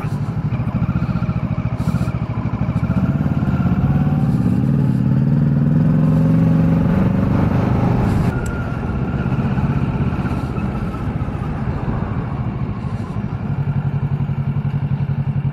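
A motorcycle engine hums steadily while riding, with wind rush and occasional rattles, shifting pitch slightly as it moves along; no clear talking.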